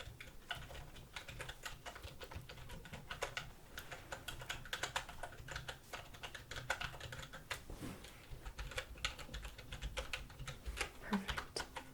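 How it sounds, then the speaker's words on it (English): Quick, irregular key clicks from a computer keyboard tapping along steadily up close in a quiet eye-exam room, soft and continuous with no talking. "let's type that in real quick"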